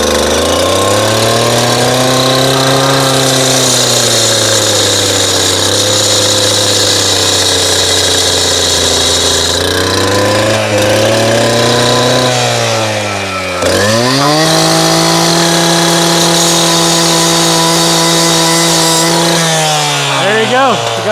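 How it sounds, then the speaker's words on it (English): A loud engine-driven power tool cuts rebar at a spread-footing site, droning steadily with its pitch dipping and rising under load, and a voice occasionally heard beneath the noise. "we need to cut off this rebar"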